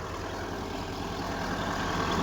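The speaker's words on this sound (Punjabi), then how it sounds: "ਜਨਰੇਟਰ ਦੇ ਉੱਪਰ ਆ ਮੋਟਰ ਚੱਲ ਰਹੀ ਆ" A steady engine drone runs continuously, low and throbbing like a generator under load driving a water pump motor for irrigating a wheat field by a riverbank, close and unchanging with no voices.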